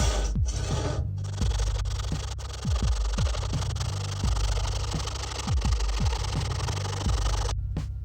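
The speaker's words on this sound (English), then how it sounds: "filing, sanding, making everything good" Repeated rhythmic rasping strokes of a file or sandpaper on material, close by, steady back-and-forth scraping over a low background hum.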